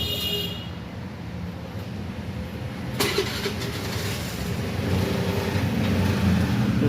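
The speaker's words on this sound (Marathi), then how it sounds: "तर इंजिनचं काम चालू आहे" A motorbike engine runs steadily during servicing in a busy garage, a constant loud mechanical drone with a sharp metallic clank near the middle and no voices over it.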